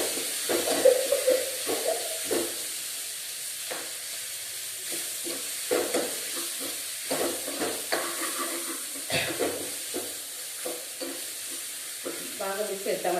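Mashed boiled potatoes frying in a pan for poori curry, a steady sizzle with repeated scraping and stirring strokes close up, with no talk.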